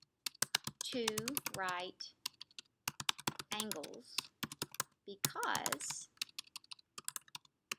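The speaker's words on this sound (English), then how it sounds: "having a hard time typing today" Rapid clicky typing on a computer keyboard, dense bursts of keystrokes running alongside and between stretches of a person talking.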